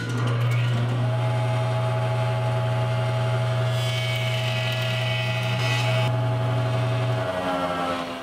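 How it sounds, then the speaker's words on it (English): A woodworking jointer runs with a steady loud motor hum and whine while a walnut board is fed across its cutterhead, a brighter cutting hiss rising midway, then the tone drops as the machine winds down. "Then I'll use the joiner to clean up the blade marks."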